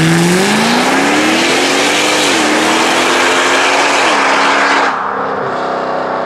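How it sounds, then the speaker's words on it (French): A Mercedes C63 AMG with its exhaust valves closed pulls away on a road, its engine note rising through the gears with brief dips at each shift, loud and close, then dropping to a steady lower drone. "Donc là, on va faire un démarrage sur cette route avec les valves fermées."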